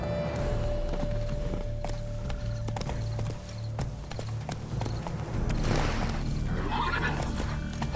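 A horse in The Witcher 3 clip-clops in a steady rhythmic gait, hooves close and clear, with a neigh rising near the end over faint ambient background.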